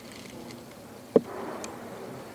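Soft buzzing of wintering bees in a hive hums steadily at close range, with a brief sharp knock partway through.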